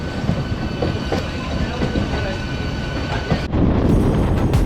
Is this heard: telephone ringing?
no